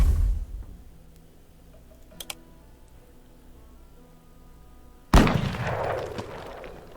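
A pistol or shotgun shot in a turn-based Wild West combat game. After a quiet stretch with a faint tick, a single loud, sharp report sounds and its rumbling tail trails off.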